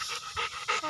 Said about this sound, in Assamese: ইয়াত এটা কুকুৰ আছে